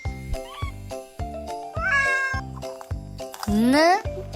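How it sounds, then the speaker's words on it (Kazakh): A cat meows twice, the second call a longer rising yowl, set over a bouncy children's song backing with a steady beat. "Мысық"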